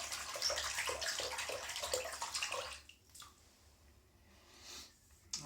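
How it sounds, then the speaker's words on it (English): A razor is rinsed under running water at a sink, a close splashing rush with a few tapping knocks that stops about halfway, leaving quiet room sound. "I'm going to rinse the razor off a little bit"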